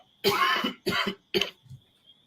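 Three harsh coughs in quick succession, close and loud, followed by a brief throaty rumble and a faint steady high whine in the background.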